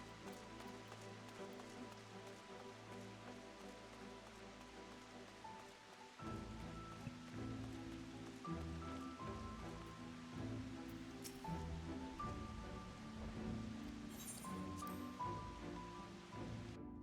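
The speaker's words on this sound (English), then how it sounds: "More thunderstorms, more rain. Lovely." Rain falling in Final Fantasy XIV during a thunderstorm, a soft continuous hiss of rainfall under sustained game music, faint throughout with no speech.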